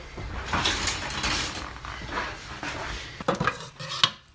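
A metal ladle clatters and knocks among pots and dishes in a home kitchen, with scattered clinks and scrapes of varying loudness and brief quiet gaps, no voices.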